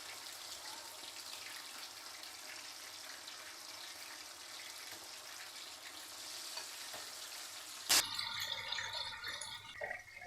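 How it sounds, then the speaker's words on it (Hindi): Beef boti pieces deep frying in hot oil give a faint, steady sizzle and crackle, ending in a sharp clatter and louder bubbling near the end. "वैसे तो ये डीप फ्राई हो रही हैं"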